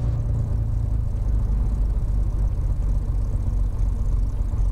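Light aircraft piston engine idling before takeoff, a steady deep rumbling drone heard from inside the cabin, constant and close with no pauses.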